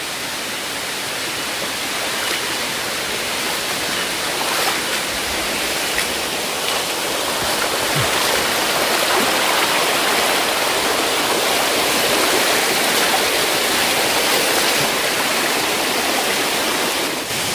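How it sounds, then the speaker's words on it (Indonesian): Curug Jaha, a waterfall in Ujung Kulon National Park, pours with a loud, dense, unbroken rushing hiss that stays constant throughout, close and enveloping with no voices. "sudah tiba di Curug Jaha namanya. Ini penampakannya Curug Jaha."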